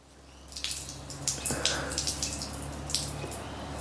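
Pool water drips and trickles out of the bottom of a waterproof FPV backpack, making a patter of close splashy drips over a constant background hum.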